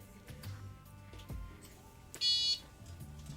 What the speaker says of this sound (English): Don't mind the beeping. My husband's playing with a device that detects wireless communications.